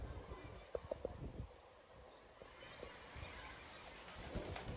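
Pigeons in a coop give a few soft, low coos near the start, then the calls thin out into faint rustling and background noise. A voice is partly audible.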